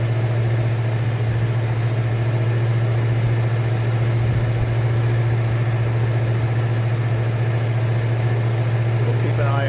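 A Ford 302 V8 idles steadily at about 1800 RPM during break-in after a lifter replacement and exhaust manifold removal, giving a constant close, loud low drone with no change in pitch throughout.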